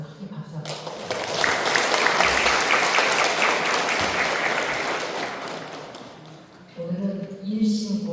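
An audience at a Won Buddhist temple service claps in a sustained burst of applause that swells and holds for several seconds, then tapers off as a voice begins speaking.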